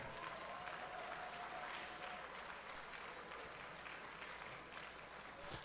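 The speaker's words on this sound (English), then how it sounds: "And give her a hand, please." A convention keynote audience applauds, a steady wash of many hands clapping that sounds fairly distant and holds evenly throughout, with no speech over it.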